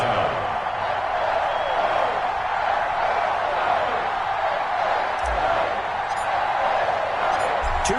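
Large NFL stadium crowd before a Week 14 Carolina Panthers vs New York Giants game, a steady, dense roar of murmuring fans with scattered voices, holding at an even level throughout.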